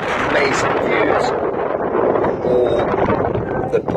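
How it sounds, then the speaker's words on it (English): Strong wind buffets the microphone on a high, pine-covered stretch of the Appalachian Trail, a loud, continuous rumbling roar that fills the whole clip. "It's a little bit windy up here actually."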